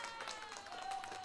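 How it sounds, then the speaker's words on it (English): Applause sound effect played on a live stream, a short burst of dense clapping and light crowd noise that stays steady for just over a second, with no talk over it. "congratulations, get some applause."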